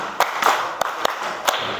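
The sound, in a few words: children clapping hands in a clapping game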